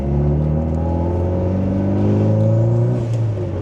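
A Mitsubishi Lancer Evolution 8, a long-neglected car being revived, revs loudly and close up, its engine note climbing and easing in sustained, tonal pulls with no talk.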